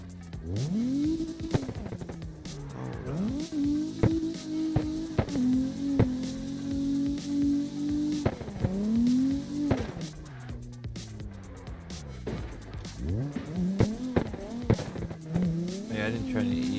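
A Toyota Crown drift build slides sideways, its engine note rising and falling through revs in long sweeping pulls, with occasional tire noise and sharp bumps, while someone talks over much of it.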